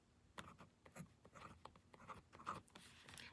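Pen scratching out an amount on a paper budget sheet, a faint close-up run of short strokes and scribbles with no voices.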